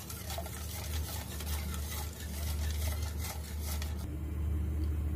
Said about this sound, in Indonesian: aduk hingga tercampur rata ya